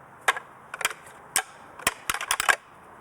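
Antlers clash and grind in irregular bursts for buck rattling, sharp woody clacks spaced with short pauses, close and loud with no voices.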